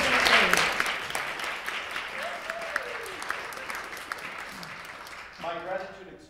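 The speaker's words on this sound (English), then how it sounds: "I think we should give her a round of applause" An audience at an academic event on global ethics applauds for Miriam Ngo, a broad wash of clapping that fades gradually, with a voice speaking over it and coming back in at the end.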